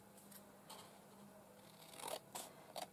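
Scissors trimming a 70s–80s themed costume piece: a few faint, quick snips cluster near the end, each a short crisp burst over a quiet room with a low steady hum.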